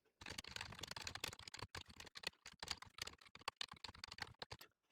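Code being typed on a computer keyboard, with a fast, uneven run of close, crisp key clicks and brief pauses between bursts, heard alone without any voices.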